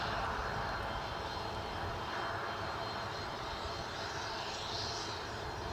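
A Jet2 airliner arrives at Newcastle International Airport, its engines a steady, broad, distant roar that holds evenly throughout with no talking.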